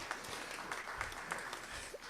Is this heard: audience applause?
yes